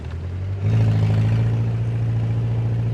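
A Datsun 910 Bluebird wagon engine running with freshly bedding-in rings picks up speed on a cold day, a low idle-like hum jumping into a louder, steady mid-pitched drone under load as it accelerates.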